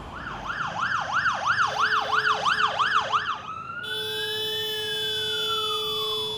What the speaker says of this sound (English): we even saw an ambulance struggling to get through a road narrowed by parked vehicles.